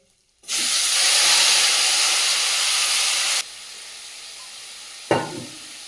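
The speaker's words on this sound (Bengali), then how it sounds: "তেলটা গরম হয়ে গেছে দিয়ে দেবো কিছুটা গোটা জিরে তেজপাতা মাখিয়ে রাখা লোটে মাছগুলো দিয়ে দেবো" Whole cumin, bay leaves and marinated Bombay duck fish hit hot oil in a loud, close, steady sizzle that drops to a softer frying hiss after a few seconds. A brief clatter and fresh crackle follow near the end.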